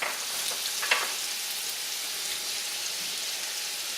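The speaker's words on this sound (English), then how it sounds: "So now you just want to brown the meat." Beef browns in melted butter in a pan, giving a steady hiss with a faint crackle and one brief scrape near the start, no voices over it.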